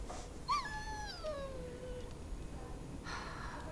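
A dog in the Dragon Age: Origins video game gives a single drawn-out, descending whimper that tapers into a soft whine over faint background noise, with no voices.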